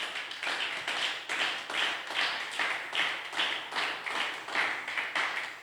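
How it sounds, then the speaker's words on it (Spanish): A church congregation claps in unison, a steady rhythmic beat of about two claps per second, fairly close and sustained with no talking over it. "¿Puede dar un aplauso al Señor,"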